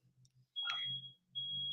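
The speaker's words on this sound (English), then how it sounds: "That's my smoke alarm." Household smoke alarm beeping: a faint click, then two long, loud, piercing electronic tones, each lasting close to a second, with a brief gap between them and a low hum underneath.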